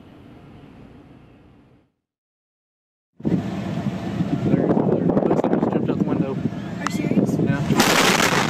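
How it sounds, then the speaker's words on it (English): A fertilizer plant explosion near Waco, Texas comes as a sudden loud, roaring blast after a moment of silence, followed by sustained rumbling and wind-like noise over distant commotion. "there was a tremendous explosion at a fertilizer plant just north of Waco"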